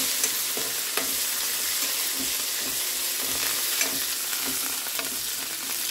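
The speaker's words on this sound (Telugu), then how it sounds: "పప్పులు ఉల్లిగడ్డ మంచిగా ఫ్రై అయినాయి." Lentils and onions frying in a pan with curry leaves, a continuous loud sizzle with occasional crackles and stirring scrapes, close by and steady throughout with no talk.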